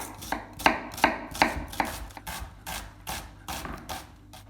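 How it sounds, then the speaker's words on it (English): A knife finely chops an onion on a board for a chicken katsu curry, a steady run of crisp, close taps alone with no voices, some strokes sharper and louder than others. "the first thing we need to do is just finely chop up an onion"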